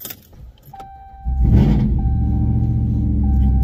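From inside the cab, a Ram 4wd truck's engine cold-starts after a brief crank and settles into a loud, steady low rumble at idle, preceded by faint clicks and a chime.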